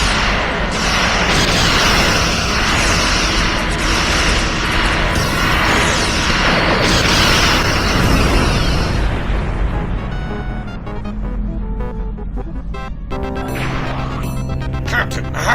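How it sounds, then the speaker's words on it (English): Starship weapons and explosions from Star Trek Online roar loud and dense for about ten seconds, a sustained barrage of booms and blasts that then fades into quieter tonal effects. "Keep firing everything we got."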